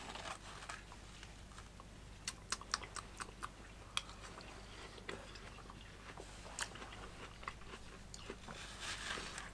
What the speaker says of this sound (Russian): Арбуз правильно есть ложкой.